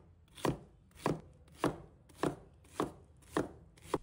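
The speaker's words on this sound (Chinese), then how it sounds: "再切成小块。" Pineapple being cut into small pieces on a cutting board, seven evenly spaced knife chops in a steady rhythm, close and clear with no talking.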